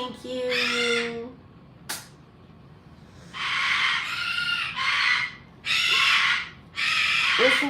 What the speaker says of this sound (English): Do you guys think that's a lovely parrot sound?